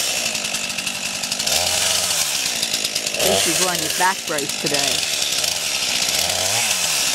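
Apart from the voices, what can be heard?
chainsaw cutting wood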